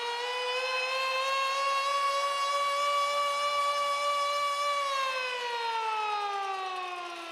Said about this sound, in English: Sound the siren.